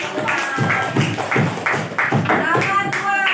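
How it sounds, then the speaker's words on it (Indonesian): A class of fifth-grade children claps in unison, about six or seven rhythmic bursts of group applause, loud and close, with the bursts growing quicker toward the end. "tepuk tangan dulu buat kalian"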